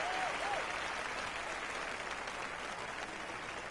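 At a professional golf tournament, a gallery cheers and applauds in a broad, steady wash of clapping and crowd noise heard from some distance, with a brief whistle near the start.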